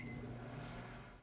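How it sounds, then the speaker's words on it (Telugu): A microwave oven heats a tomato and a little tamarind, giving a steady, low, even hum with a faint higher whine that cuts off abruptly at the end. "ముందుగా ఒక టొమాటో కొద్దిగా చింతపండు మైక్రోవేవ్లో పెట్టి 2 మినిట్స్ మైక్రోవేవ్ చేసుకుందాం"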